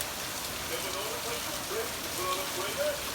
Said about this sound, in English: It's still raining steadily, but just a little, it's calming down.